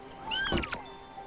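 A single short cat meow from the video game Spiritfarer, fairly quiet and isolated, rising then sliding downward in pitch.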